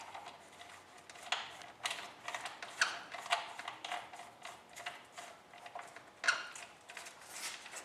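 A plastic retainer being pressed back onto a two-line string trimmer head after the spool is installed, giving a quiet run of small mechanical clicks and rattles at close range.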